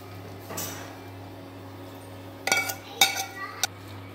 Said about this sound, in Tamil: இப்போ வந்து சாப்பாடு போட்டு கிளறிடலாம்.